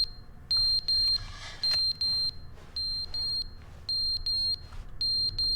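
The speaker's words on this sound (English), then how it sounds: "Oh, hi. Smoke alarm. What's up?" Smoke alarm in the video game The Stanley Parable chirping in repeated bursts of high, piercing electronic beeps, grouped in pairs and triples with short gaps, loud over a low background hum.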